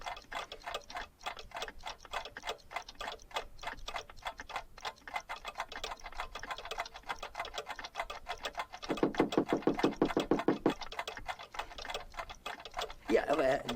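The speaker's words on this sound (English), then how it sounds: "Authentic Black Forest cuckoo clocks." Several Black Forest cuckoo clocks tick steadily in a fast, overlapping rhythm inside a shop in the 1995 Sierra game Gabriel Knight 2: The Beast Within, with a brief louder mechanical whir near the end.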